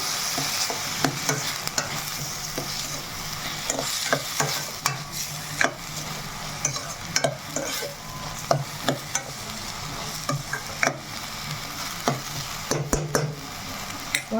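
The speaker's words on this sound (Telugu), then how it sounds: "కల్లుప్పు వేసుకున్నాక కలిపేసుకుందాము" Onions with rock salt stirred in a hot pan, a spoon scraping in irregular strokes over a steady sizzle of frying, close and fairly loud with no talking.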